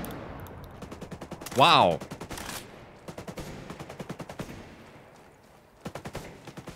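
Gunfire from hip-firing a gun in the Ghost Recon Breakpoint video game: rapid, close bursts of automatic shots with a louder blast near the start, pausing and resuming in short volleys while a player speaks briefly.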